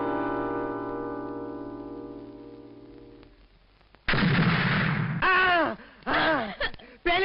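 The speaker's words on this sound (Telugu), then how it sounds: "పార్సల్ పంప్ పేలింది" A parcel bomb goes off in a Telugu comedy film scene, Allari Pellam: after a fading tonal note, a sudden loud blast erupts, followed by further booming bursts and shouting voices.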